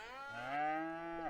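A Highland cow in Farming Simulator 25 gives a single close, deep moo lasting about a second, rich and harmonic, with no speech around it.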